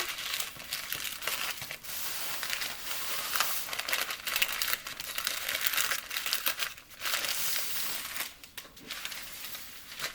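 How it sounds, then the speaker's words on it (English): Greaseproof paper crinkles and crumples steadily as food is wrapped into a small parcel, a close, dry rustling with brief louder crackles. "put it on a clean piece of greaseproof paper,"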